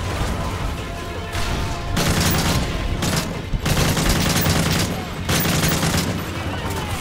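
Dense bursts of rapid gunfire in Call of Duty: Modern Warfare 3, mission Persona Non Grata, come in waves, loud and crackling, with brief lulls between volleys.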